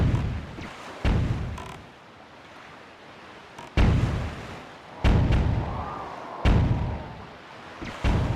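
Bomb blasts in The Legend of Zelda: The Wind Waker, fired during the Sploosh Kaboom minigame: five heavy booming thuds about every one to one and a half seconds, each decaying into a rumble, with no talk.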